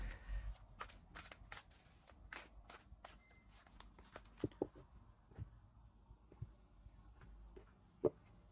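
A deck of tarot cards being shuffled by hand, a run of soft riffling, flicking snaps close up, fairly quiet with no talking.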